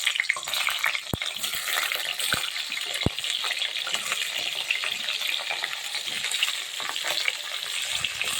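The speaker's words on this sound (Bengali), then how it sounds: "এখন আমি ঝিঙেগুলি একটু তেলের মধ্যে ভেজে নেব" Ridge gourd pieces frying in hot oil in a kadai, a dense continuous sizzle and crackle heard close, with a few sharp clicks early on and no talking.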